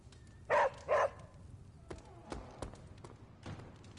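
A puppy named Charlie in a video game gives two sharp, close barks in quick succession, followed by a few soft thumps and clicks against a quiet background.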